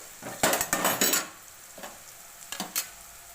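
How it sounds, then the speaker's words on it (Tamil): Boiled potatoes being stirred in a pan with fried dried red chillies: quiet background sizzle broken by several sharp scraping and clattering strokes of a spoon against the pan, clustered at the start and again near the end. "இப்போ வேக வச்ச உருளைக்கிழங்க அதோட சேர்த்துக்கலாம்."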